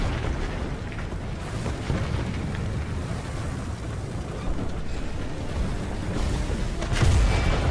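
Tank cannon fire and battle noise in the War Thunder game with a T-54 1947 tank, a dense rumbling din of engine and distant booms with a louder blast near the end, no voices.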